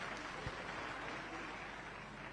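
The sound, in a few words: applause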